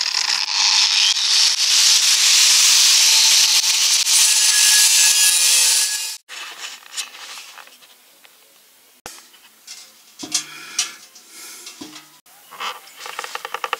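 An angle grinder cuts through the steel of a gas cylinder being made into a smoker, giving a loud, continuous abrasive screech for about six seconds, then stopping, followed by quieter scraping and handling knocks.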